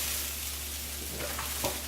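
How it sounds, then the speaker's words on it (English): Risotto rice toasting in a hot pan, a steady close sizzle and crackle with a few faint stirring scrapes near the end, no talk. "I'm going to get my rice, and I'm going to toast my rice."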